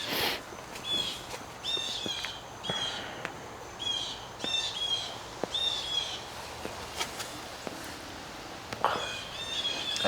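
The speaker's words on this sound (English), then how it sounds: "those are my friends, the Blue Jays, screaming and hollering." Blue jays calling outdoors, a series of harsh, repeated screams and chirps at moderate distance, scattered across the stretch in short bursts over a steady outdoor background with occasional light knocks.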